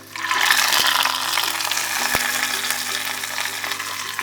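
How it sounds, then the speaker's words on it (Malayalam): Hot mustard seed tempering is poured into cucumber pachadi with a loud, sustained hiss and sizzle, close up. A couple of sharp taps come from the pan. "കടുക് താളിച്ചത് നമുക്ക് പച്ചടിയിലേക്ക് ഒഴിച്ചു കൊടുക്കാം."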